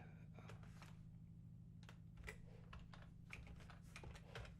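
Rapid, irregular clicking of computer keyboard keys comes in bursts over a steady low hum, fairly close and moderately quiet, with no talking.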